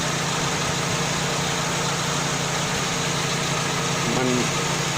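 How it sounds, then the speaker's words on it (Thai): A Nissan NV with a GA15 engine idles steadily after starting, a close, even mechanical drone with a low hum running throughout and a short rise in level near the end. "นี้สตาร์ทติดปกติแล้วครับ"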